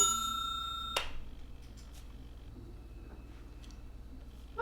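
A bright bell ding rings out at the start and decays quickly, followed by quiet low hum and a few faint ticks, with another soft chime beginning at the very end.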